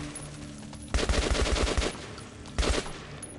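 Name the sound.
gunfire in the video game Metro 2033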